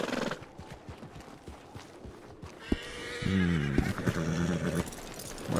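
A horse in a western video game whinnies loudly partway through, a long wavering neigh after scattered hoof clops and a thump, set against game ambience.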